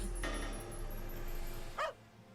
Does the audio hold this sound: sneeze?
no